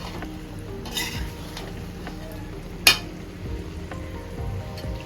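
Chicken frying in a pan for chilli chicken makes a close, continuous sizzle, with occasional stirring and a sharp clink of utensil against the pan; there is no talk.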